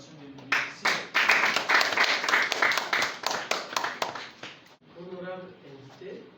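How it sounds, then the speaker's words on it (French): Warm applause for a publication director at a formal ceremony, many hands clapping in a dense, steady burst that swells and then fades, followed by a brief tonal voice near the end. "Accueillons avec une salve d'applaudissements chaleureuse et digne de ce grand moment, Madame Florence Nikema"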